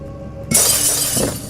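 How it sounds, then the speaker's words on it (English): In the video game Amnesia, a pane of glass is smashed with a book, giving one sudden loud shatter followed by a bright spray of falling shards. "You can smash the glass with a book."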